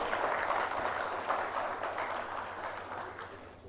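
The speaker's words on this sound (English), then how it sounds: "A big round of applause, please." An audience at a plenary session on energy challenges applauds, a steady crowd clapping that slowly fades over a few seconds.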